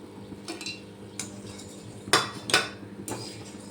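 Fried batter pieces scooped from hot oil with a slotted metal spoon, several close metallic clanks and scrapes against the pan, the loudest two in quick succession, with quieter knocks between.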